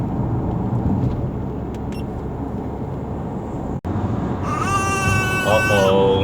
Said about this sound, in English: Uh-oh, baby's crying.